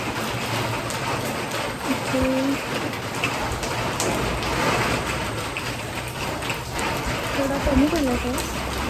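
Steady rain patters on a surface throughout at a temple in Konkan, a dense hiss with brief faint voices or tones rising through it now and then.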